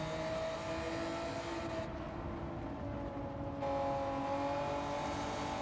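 A 1992 Honda NSX Type R engine in Gran Turismo 7 on the Tokyo Expressway holds a steady, loud drone in fourth gear, with smooth harmonic tones. The pitch dips briefly mid-run, then swells again.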